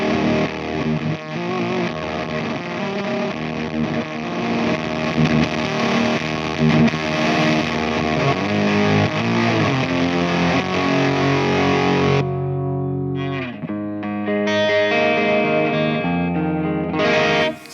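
Thick, saturated fuzz from a Hello Sailor Effects Xenomorph pedal, played through a Les Paul's neck pickup with the guitar volume rolled down. Dense, sustained chords and riffs play loud and continuous, thin out briefly near the end, then swell again, with no voices.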